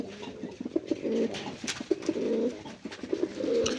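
Native Gola pigeons at a farm coo in repeated low, throaty phrases, close and clear, with brief soft rustles between the rolling calls.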